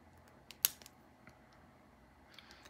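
A single crisp snip of wire being trimmed while making bead earrings, close and sharp, followed by a few faint clicks against a quiet background.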